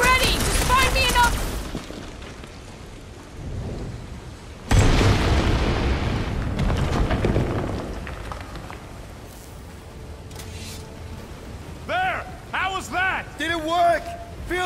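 A large explosion in the Guardians of the Galaxy video game, with a loud booming burst midway that trails into rumbling debris, surrounded by character voices talking before and after.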